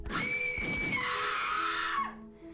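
Shrill, sustained screams in an audio drama, loud and piercing, rising in a high wavering cry that slides downward and breaks off after about two seconds.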